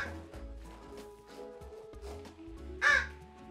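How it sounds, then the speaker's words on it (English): An American crow in a sanctuary enclosure gives a single loud caw near the end, heard close up against quieter background sounds. "But now it's home to our two American crows, Abbott and Coconut."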